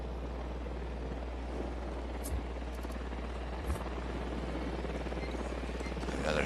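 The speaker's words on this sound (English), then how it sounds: "Another helicopter just showed up." A steady, low rotor drone of a helicopter in the video game Ghost Recon Wildlands hums continuously at moderate volume, with a few faint clicks and small bumps over the top.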